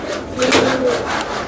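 Pigeons coo softly in a loft, a brief low murmuring under room noise while someone talks nearby.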